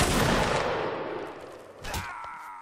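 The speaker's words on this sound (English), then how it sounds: "The volley coming in." Musket volley from a line of soldiers in a multiplayer line-battle video game: a loud, dense burst of many overlapping shots at once, rolling off and fading, then a smaller crack of more fire near the end.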